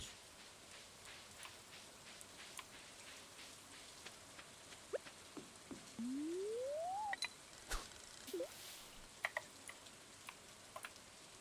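Steady soft rain hiss from the Stardew Valley video game, with scattered small ticks and clicks and a brief rising electronic tone partway through; no voices.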